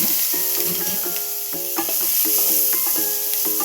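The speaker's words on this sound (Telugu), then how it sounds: "ఎక్కువసేపు అవసరం లేదండి, ఎక్కువసేపు వేయించొద్దు." Chickpeas frying in hot oil with cumin seeds and dried red chilies in a home kitchen, giving a steady close sizzle with crackling pops and a few clinks of a stirring utensil, no talking.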